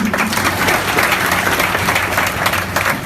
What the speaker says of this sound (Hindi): हमें लिए भी एक बार ताली बजा दो